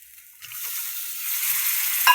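Masala stirred in a kadhai, a close sizzle that swells from quiet to a steady hiss, with a faint scrape at the end.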